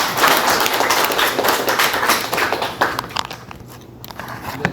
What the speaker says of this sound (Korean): 우리 최 박사님 다시 한번 박수 한번 해주시다